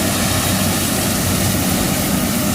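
A New Holland combine harvester runs in a corn field, its engine and chain-fed threshing mechanism producing a loud, steady, broadband roar close by with no pauses.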